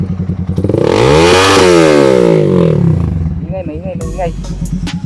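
Up close, a Z200X motorcycle fitted with an SC Project exhaust climbs from a throbbing idle to a loud, full rev, then falls back to a deep, pulsing idle.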